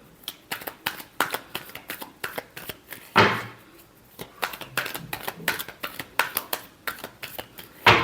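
Tarot cards being shuffled by hand, a string of quick crisp riffling bursts in an uneven rhythm, close and fairly soft, with a louder riffle in the middle and another at the end.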